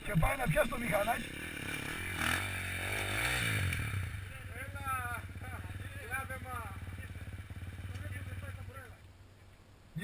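A small motorbike engine idles and revs unevenly close by, with clattering mechanical noise and shouting voices around it.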